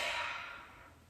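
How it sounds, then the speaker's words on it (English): A soft, breathy yawn exhaled during a lying yoga stretch, a single faint sigh-like breath that fades out over about a second. "nice yawn"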